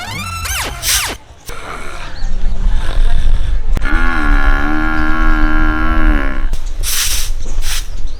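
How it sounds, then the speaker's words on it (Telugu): A buffalo bellows loudly and close by in long, drawn-out moos in a village setting, with brief rustling and other noises at the start and end. "అగో ఉర్రేది ఈ బర్రె కదా, ఈ బర్రెనా?"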